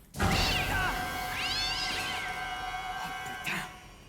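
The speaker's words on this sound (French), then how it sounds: "Un chat qui sort du frigo, c'est normal." A cat climbing out of a refrigerator gives two drawn-out, wavering meows up close, the second long and rising, with a short sharp noise near the end and quiet background otherwise.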